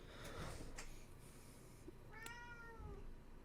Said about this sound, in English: My cat's meowing.